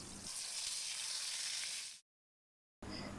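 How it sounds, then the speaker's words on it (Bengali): Eggplant fries in hot oil in a frying pan, sizzling steadily for about two seconds, then silence, then the sizzling resumes briefly. "অন্য একটা ফ্রাইং প্যানে গরম তেলের মধ্যে বেগুনগুলো ভাজার জন্য ছেড়ে দিলাম"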